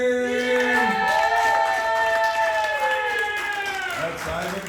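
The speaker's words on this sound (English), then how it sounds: "That's Ivan cheering for himself." A comedy club audience at an improv show cheers and applauds a comic coming up, with one loud voice whooping above the steady crowd roar throughout.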